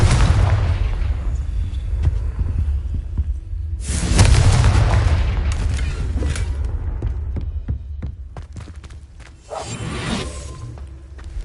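Confringo blasting spell in Hogwarts Legacy: a deep, rumbling explosion with a whooshing burst, loud and sustained, fading into a low throbbing hum before a second softer swell.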